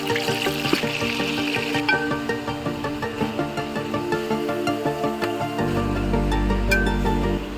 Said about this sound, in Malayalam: ഒരുപാട് ഡ്രൈ ആവാതെ നന്നായിട്ട് വേവുന്ന ഒരു രീതിയിൽ മീൻ വറുത്തെടുക്കുക